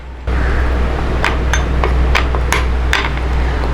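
A spoon stirs a homemade tomato and curd face pack in a bowl, giving a run of sharp, regularly spaced clinks over a steady background hum.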